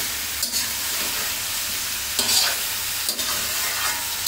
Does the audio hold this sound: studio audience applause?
no